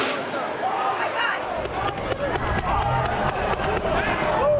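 Protest crowd outside Baltimore City Hall: a dense, steady roar of many voices with shouts and scattered claps, people milling and calling at close to middle distance, with individual voices rising above the babble.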